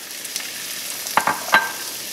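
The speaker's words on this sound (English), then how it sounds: "you want the onions to saute." Red onions sauteing in a little olive oil in a pan, a soft steady sizzle with a few sharper crackles and spatters near the end, no talking.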